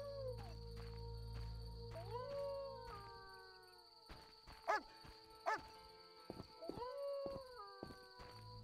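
A dog in The Witcher video game howls and yips in drawn-out, wavering cries, with a few sharper barks, moderately close against quiet ambient sound.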